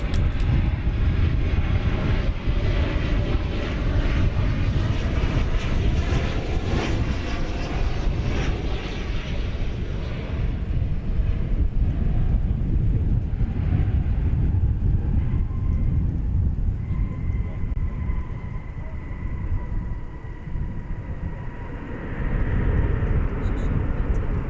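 A Boeing 737-800 jet roars steadily at an airport, loud and sustained with a broad rumbling whine that fades slightly toward the end, wind buffeting the microphone throughout.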